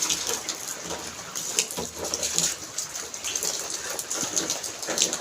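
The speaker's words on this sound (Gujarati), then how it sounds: "તમારા ગામમાં કેવો વરસાદ છે? અમારે તો આવો હોય જુઓ તમે" Steady village rain hissing and pattering, broadband and continuous throughout, with occasional heavier splashes and no voices.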